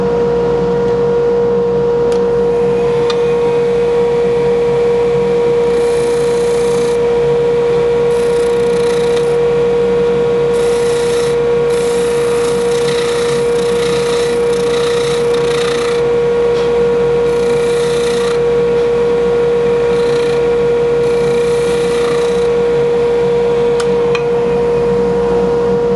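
Woodturning lathe boring a wooden ring with a speed bore tool, a steady high motor whine running throughout with a continuous rasping cut and intermittent scraping bursts of the bit in wood, close and unbroken.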